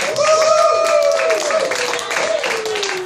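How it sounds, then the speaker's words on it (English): An audience at a comedy show at The Playground Theater claps loudly and cheers continuously, with whoops and voices rising over the applause throughout. "let's begin a rousing round of applause for our hostess with the mostest, Ginger Forrest"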